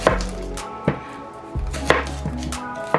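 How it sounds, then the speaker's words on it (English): A knife roughly chops through a small onion on a board, with a handful of separate, close thuds at an uneven pace and no talk. "We'll just give it a rough chop through like this"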